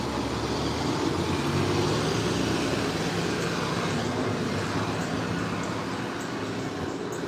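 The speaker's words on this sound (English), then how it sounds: "I'm gonna wait till this bus leaves because it's very loud." A loud bus pulls away at Disney's Animal Kingdom Lodge, a dense, steady engine and road rumble that fills the whole stretch close by, with no speech over it.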